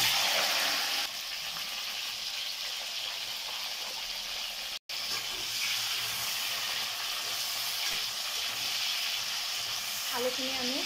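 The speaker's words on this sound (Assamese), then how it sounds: "এই আলুখিনি ফ্ৰাই কৰিম" Potatoes frying in oil in a kadai, giving a steady, dense sizzle and hiss that continues close up for the whole stretch with a brief dropout partway through.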